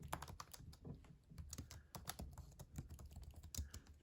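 Fingers type quickly on a computer keyboard, a close, quiet run of irregular clicking keystrokes with no voices.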